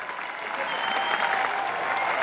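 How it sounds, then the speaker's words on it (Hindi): Studio audience at a Hindi comedy talk show claps loudly for arriving celebrity guests, a thick continuous wash of applause that builds slightly and holds steady, with no voices over it. "एक बार सुशांत और परिणीति के लिए जोरदार तालियां"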